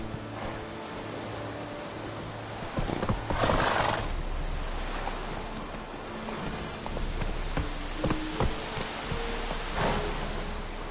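Roach the horse gallops with rapid clip-clopping hooves and neighs loudly in The Witcher Wild Hunt video game, close by. The drumming hoofbeats continue over a rain-like background hiss, and whinnies stand out between the hoofbeats.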